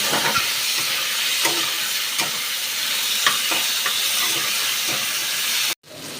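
Cut potatoes frying in hot oil, a steady, dense crackling sizzle close by with occasional pops, cutting off abruptly near the end.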